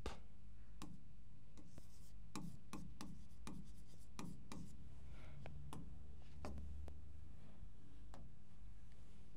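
A pen draws an envelope shape on paper, making irregular sharp ticks and taps with faint scratchy strokes between them, close and quiet, with no talking.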